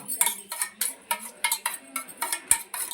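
Two spoons clink and scrape steadily as mayonnaise and ketchup are mixed together, a quick rhythmic run of about a dozen close, bright strokes with no voices.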